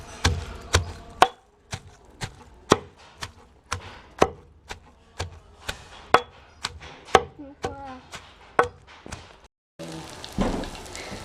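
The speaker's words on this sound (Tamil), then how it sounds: "இப்போ வெள்ளைப்பூண்டு போட்டு இடிச்சிட்ருக்கோம்." Garlic is pounded in a mortar during village-style onion vadagam preparation, giving a steady series of about fifteen sharp, close thuds at an even rhythm, then a brief rustling scrape at the end.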